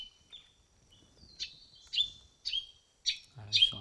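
Several small passerine birds call excitedly nearby, giving a series of sharp, high chirps in quick succession that grow louder toward the end, with a faint low sound at the close.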